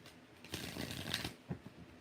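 Tarot cards shuffled by hand during a live reading, giving soft papery riffles and bursts of card flutter in a few quick pulses, fairly quiet and close.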